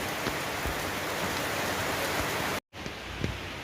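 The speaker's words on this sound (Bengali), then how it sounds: "আবার শুরু হয়ে গেছে বৃষ্টি ঝমঝমিয়ে" Heavy rain pours down in a loud, dense, unbroken hiss, briefly cutting out near the end before resuming, with scattered drip accents and no voices.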